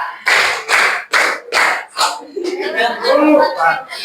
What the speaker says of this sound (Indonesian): Tepuk tangan dua, tepuk tiga, tepuk tangan dua.